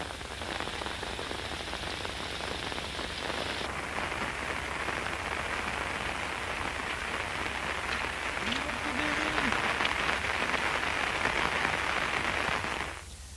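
Heavy monsoon rain pouring down in Maharashtra, a dense, unbroken hiss of drops drumming on surfaces, loud and steady, with a brief faint tonal sound partway through.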